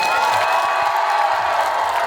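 A large outdoor crowd at a farmers' festival concert claps and cheers loudly and steadily, with shouts and whoops rising over the sustained applause.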